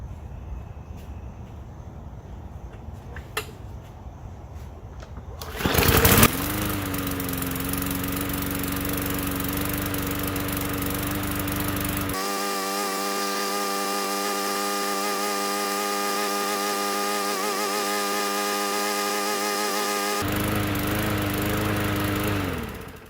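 A sickly lawn mower engine with a running problem fires up after a sharp start at about six seconds, then runs loud and steady at close range, shifting pitch partway through, with no talking.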